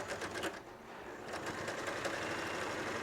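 A sewing machine stitches through a potato sack fabric bag, running steadily and close at full speed for about three seconds with a brief slowdown near the start, its fast mechanical chatter continuous and alone.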